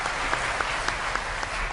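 An audience at a Ram Katha gathering applauds steadily, with dense, continuous clapping at moderate volume and no voices over it.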